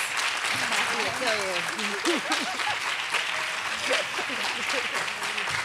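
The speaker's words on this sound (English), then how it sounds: "So please, again, help me applaud Britt and thank her for her work, her ongoing work with us." A crowd at a health issue forum applauds Britt, with steady, full clapping throughout and voices calling out and chattering over the clapping.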